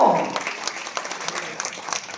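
Applause from an audience at a government ministry ceremony where dental surgeons and medical officers receive appointment letters, a dense steady clapping that begins with a brief voice and carries on for about two seconds.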